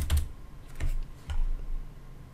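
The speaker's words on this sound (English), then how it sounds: "I'll type it in exactly as it is." Typing on a computer keyboard, a few close, soft key taps spaced irregularly over a quiet background, with no voices.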